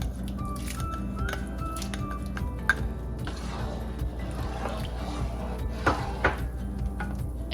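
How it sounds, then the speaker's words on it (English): Soaked rice pours into boiling milk in a cooking pot for mango kheer, giving soft splashy, squishy liquid sounds with a few light clinks against the pot, gentle and close. "Now I'm going to add the soaked rice."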